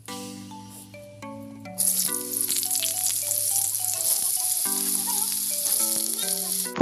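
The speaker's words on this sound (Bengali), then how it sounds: "আলুটাকে একটু ভাজাভুজি করার জন্য কড়াতে তেল দিয়ে বসিয়ে দিয়েছে একটু হালকা নাড়াচাড়া করছে" Potatoes fry in oil in a kadai at home, a loud steady sizzle that jumps up about two seconds in and carries on under a background melody, with light stirring.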